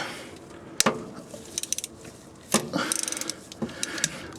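A ratchet wrench clicks in short rapid bursts while 14 mm bolts are loosened on a 2005–2006 Toyota Corolla XRS during a passenger-side axle job, with sharp metallic knocks between the runs of clicks, close and moderately loud.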